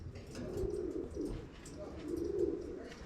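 A pigeon cock in a racing-pigeon loft gives soft, low coos in two swelling bursts, close and fairly quiet, with faint chirps and room noise around them.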